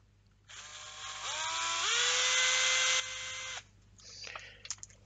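Screws are tightened into a laser-cut resin dice tower with a small powered driver: one close, steady motor whine of about three seconds whose pitch climbs and levels off, then stops, followed by faint handling clicks and taps, with no talk.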